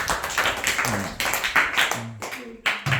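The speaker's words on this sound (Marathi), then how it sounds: "टाळ्या." Scattered clapping for a primary school pupil climbing a rope ladder outdoors, a few bursts of hand claps near and moderately loud, mixed with brief children's voices.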